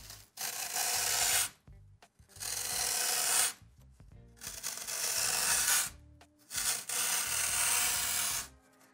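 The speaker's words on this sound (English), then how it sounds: "I'm gonna scoop this out real quick. Yo, I'm just using a keycap puller" A keycap puller scrapes and scoops out dry foam in four long, loud rasping strokes, each separated by a brief pause, close to the microphone.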